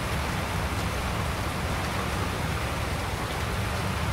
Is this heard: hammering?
no